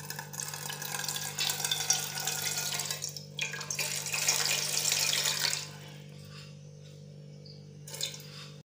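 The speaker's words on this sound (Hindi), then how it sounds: "सबसे पहले इसमें थोड़ा सा पानी डालेंगे" Water pours from a tap into an idli maker in a home kitchen, a bright splashing stream for several seconds that cuts off, leaving a low electrical hum and a final faint splash.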